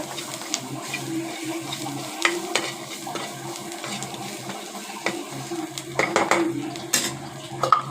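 A spatula stirs and scrapes a sautéing mixture in a pan for an egg dish, with repeated metallic clinks and knocks over a faint sizzle, close and fairly busy toward the end.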